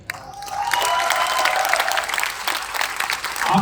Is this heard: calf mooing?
no